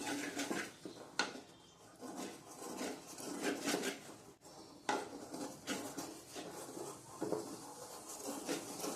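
Maize flour dough is stirred in a pot on a gas stove, producing close, quiet scraping and tapping of a utensil against the metal in an uneven, continuous rhythm with occasional sharper clinks.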